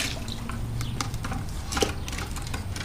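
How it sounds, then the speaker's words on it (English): Half a bucket of water poured into a cichlid aquarium over sand, a steady splashing and trickling wash with scattered drips, fairly close and continuous throughout. "I put about half a bucket"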